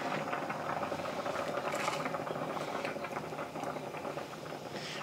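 Egg drop soup with tofu simmering steadily in a pot, a continuous bubbling and gentle patter that holds fairly even throughout with no voices.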